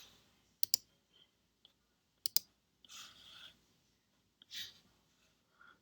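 A computer mouse clicking during a programming session, with sharp isolated clicks in small pairs spread across quiet stretches, alongside some soft breathy noises.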